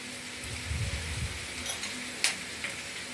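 Steady soft sizzling of chicken gizzards frying in a covered pan, with a couple of faint clinks partway through.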